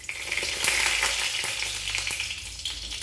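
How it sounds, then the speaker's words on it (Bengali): Nigella seeds frying in hot mustard oil in a wok for a cabbage and lentil dhoka curry, a dense close crackling sizzle that rises quickly and stays steady, with faint pops and no voices. "2 চামচ সর্ষে তেল দিয়ে দিলাম। 1/2 চামচেরও কম কালো জিরে দিলাম।"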